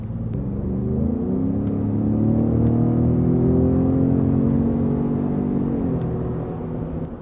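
A Ford F-150 Raptor pickup truck engine accelerating under throttle: a loud, close, deep roar that climbs steadily in pitch and then eases off, heard alone.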